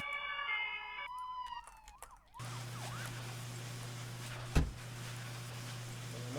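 Wailing emergency sirens sound in the Emergency 4 video game, warbling rises and falls that switch pattern partway, over a steady low engine hum with a brief sharp thud near the end.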